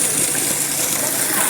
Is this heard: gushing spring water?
yes